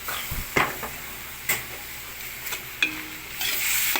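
Pork fries with soy sauce in a hot pan, giving a steady sizzle broken by a few scraping stirs, close up with no talking.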